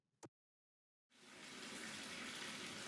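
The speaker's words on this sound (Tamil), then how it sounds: "தண்ணி சவுண்ட் தான் கேக்குது" A short knock is followed by a second of silence. Then water gushes from a tap in a steady, even rush that holds to the end, fairly quiet and close.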